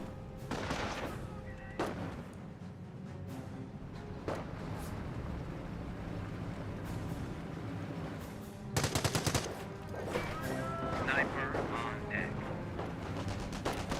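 Scattered rifle and squad gunfire from a Company of Heroes battle, including sniper fire: separate sharp cracks, then a dense burst of rapid shots near the middle, set over steady battlefield ambience, with faint talk beneath.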